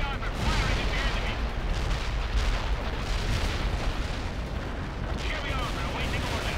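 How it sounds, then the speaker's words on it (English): Heavy armored tanks fire on the enemy in a war video game, a dense, continuous barrage of deep booms and rumbling blasts that stays loud and steady throughout. "Heavy armor firing at the enemy."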